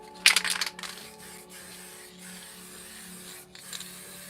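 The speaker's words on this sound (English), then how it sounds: "I'm just going to spray a bit more than I normally would on here so it stays wet a bit" A short burst of spray paint from an aerosol can, hissing for about half a second, followed by quieter faint rustling and a soft hiss near the end.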